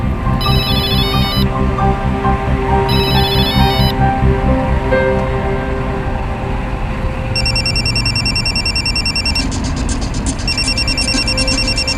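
A phone rings in repeated electronic trill bursts over a loud, steady music bed, the ringing coming in several spaced rounds.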